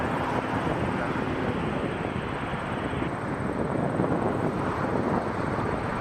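A passenger airliner takes off at Toronto Pearson Airport, giving a steady, loud jet roar that holds for several seconds with wind buffeting the microphone.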